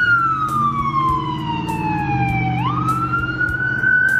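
An emergency vehicle siren wails outside with a long sliding tone that drops then rises again, loud and continuous over a steady low engine rumble.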